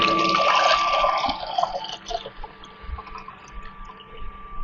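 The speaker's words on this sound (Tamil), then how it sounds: "இந்த ஜக்கில் தண்ணியை இந்த மாதிரி ஊற்றிக்கோங்க" Water poured from a jug into a plywood egg incubator, a close splashing, gurgling pour that tapers off into a few drips and trickles.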